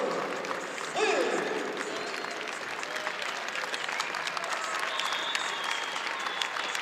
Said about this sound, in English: Good applause from the Gopher fans